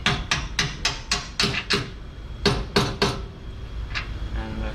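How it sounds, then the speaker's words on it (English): Series of sharp metallic hammer taps on a CV axle while replacing the left axle of a Nissan Altima, about a dozen close, crisp strikes in quick irregular bursts with brief pauses between. "you can just get a hammer, give it a light tap"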